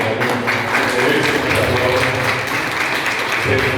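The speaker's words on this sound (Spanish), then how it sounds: "vamos a dar un aplauso fuerte" Strong applause of recognition for electronics students being honoured, a loud, continuous rush of clapping from a close crowd with some voices underneath.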